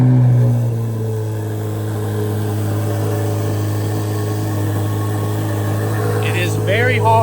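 Corvette C8 Z06 engine idling steadily after auto start, a deep, loud, continuous hum that holds throughout, with a brief rise near the end.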